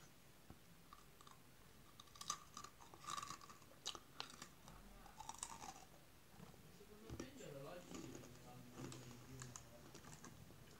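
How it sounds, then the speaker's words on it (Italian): Crunchy muesli with chocolate pieces chewed close to the mouth, quiet irregular crackling bites and crunches with faint background noise. "voglio farvi sentire il rumore proprio croccantissimo"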